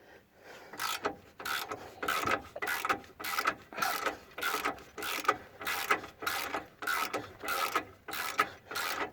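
Ratchet wrench working a shock absorber bolt loose on a 2004 Nissan Navara D22, a close series of rhythmic clicking ratchet strokes repeating about twice per second, with no talking.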